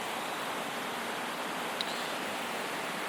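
Water rushes over the top of a mountain waterfall on a wilderness creek trail after a wildfire, a steady, soft broadband roar with no variation and one tiny click.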